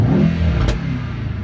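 Mercedes-AMG E63 S Edition 1 engine revving hard up close, a loud throaty roar with a sharp crack or pop near the middle of the burst, then settling into a steady rumble.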